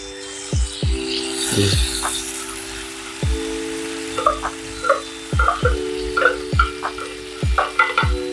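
Tuna and anchovies sautéing in a pan for tuna spaghetti: a steady close sizzle with repeated knocks and scrapes of a utensil stirring against the pan, a low hum running beneath, no talk.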